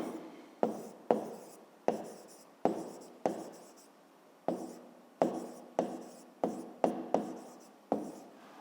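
Handwriting in a school maths notebook, with short pen or pencil strokes that rise and fade in a brisk, irregular rhythm of about a dozen scratching bursts, close and quiet with no talk.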